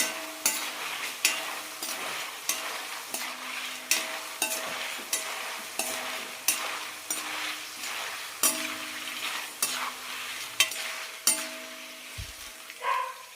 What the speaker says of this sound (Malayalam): ഇതുപോലെ ആകുമ്പോൾ തുടർച്ചയായി ഇളക്കിക്കൊണ്ടിരിക്കാം എല്ലാ കഷ്ണങ്ങളും ഒരുപോലെ ക്രിസ്പിയായി കിട്ടും